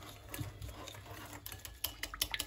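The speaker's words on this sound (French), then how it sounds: "je vais tout mélanger" Seasoned chicken escalope stuffing mixture with garlic and paprika being stirred in a bowl, quiet scraping and clicking of the utensil with irregular soft taps, close and faint, no talking.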